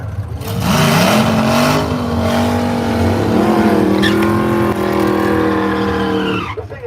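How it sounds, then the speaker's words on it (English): Reggie Moore's 1934 drag car 'Organ Grinder' pulls big wheel stands at Brainerd drag way, its engine roaring loud and close with rising, wavering pitch and tire squeal, sustained for several seconds before cutting off abruptly. "Reggie doing lots of big wheel stands in the organ grinder"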